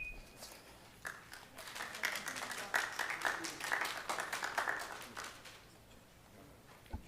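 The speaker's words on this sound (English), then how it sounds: "please hold your applause" A crowd at a school board meeting breaks into scattered applause and cheering that swells for several seconds, then fades, with a few voices mixed in.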